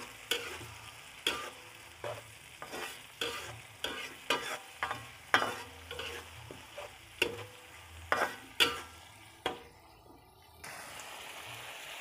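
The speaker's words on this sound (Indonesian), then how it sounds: "Goreng hingga aromanya keluar ya." Spices sizzle in hot oil while a utensil stirs and scrapes the pan in repeated strokes for sambal goreng tomat in the Madura style, a steady frying hiss under rhythmic clacks that stop near the end.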